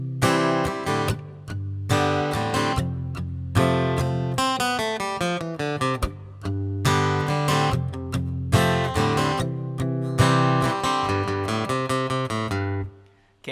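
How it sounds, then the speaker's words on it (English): An acoustic guitar strums the chords of a song in a steady rhythmic pattern, bright and close, with single-note runs between strums before it stops near the end. "Now I'm going to add in a little bit more of that strumming pattern like what I was doing at the beginning."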